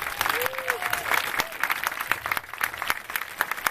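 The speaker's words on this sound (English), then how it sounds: "So can we give a big round of applause to our musicians?" Outdoor audience applause for musicians at a Japanese festival dance performance, scattered hand claps forming a lively ongoing patter, with a few voices calling out over it.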